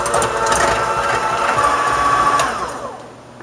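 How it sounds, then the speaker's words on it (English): Eggs mixed in a bowl for homemade eggnog: a loud, steady whirring drone that holds for about two and a half seconds, then fades. "I'm going to mix these eggs up."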